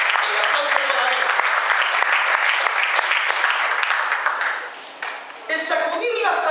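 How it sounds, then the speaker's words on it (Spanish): Sustained applause from a church congregation fills the space, loud and steady with dense clapping throughout, dipping briefly near the end before swelling again. "Den un aplauso al rey"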